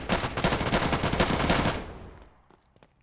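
Heavy machine gun in the FPS shooter Hazmob fires a rapid, loud burst of shots for about two seconds, then cuts off, leaving faint scattered clicks and distant pops.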